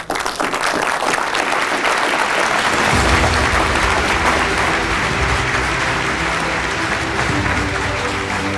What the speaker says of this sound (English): How about a warm applause of gratitude for Dr. Ross?